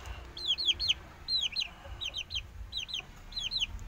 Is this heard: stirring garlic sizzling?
no